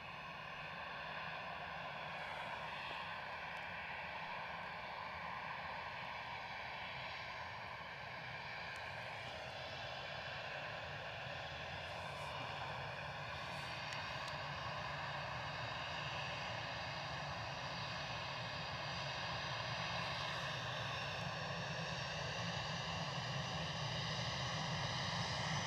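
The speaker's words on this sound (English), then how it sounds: "So the aircraft on camera is an EasyJet" An EasyJet Airbus A320 jet airliner takes off from Edinburgh Airport bound for Paris, a sustained distant engine roar with whining tones that swell gradually louder over the run, no voices.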